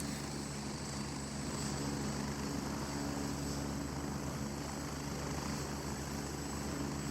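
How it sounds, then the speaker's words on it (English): Loud, steady thrum of a helicopter arriving in the military tactical game Gray Zone, a constant rotor and engine drone that holds without a break from start to finish. "We've got helo coming in."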